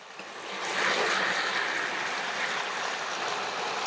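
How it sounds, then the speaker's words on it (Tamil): Water pours into a pan of chicken korma in a steady, rushing splash that starts softly and quickly swells, then holds evenly to the end. "நல்லா அது முங்குற வரைக்கும் நீங்கள் வந்து தண்ணி ஊற்றிக்கிங்க."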